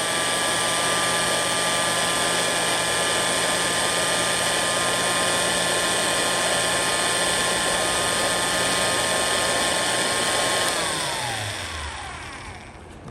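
An antique OB-4 signal drill runs after restoration with a steady, close, high-pitched mechanical whine, then spins down smoothly as it is switched off near the end.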